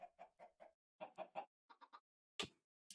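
Chickens in the Minecraft Vault Hunters modpack cluck in quick clusters of three or four short, clear clucks separated by brief pauses, with a sharper final squawk; no voices.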